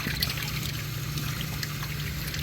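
Water pours steadily into a container being filled to submerge a motor for a pressure test, a continuous low trickle and splash heard fairly close and quiet, with no talk.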